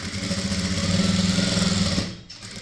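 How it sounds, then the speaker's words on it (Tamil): A sewing machine runs steadily, stitching the fall along a saree's folded edge in a continuous even whir that stops abruptly near the end. "நேராக இப்படி தையல் போட்டுக்கோங்க"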